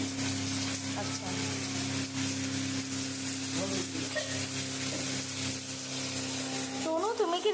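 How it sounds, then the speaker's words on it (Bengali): Prawns frying in a pan, with a loud continuous sizzle and some stirring close up, under occasional background voices and a humming tone. "চিংড়ি ভাজা হচ্ছে"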